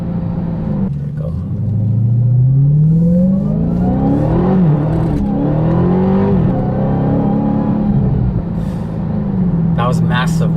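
A 2023 Dodge Hellcat accelerating hard with massive wheel spin: a loud, close engine roar rising in pitch through the gears, with a few sharp bursts near the end.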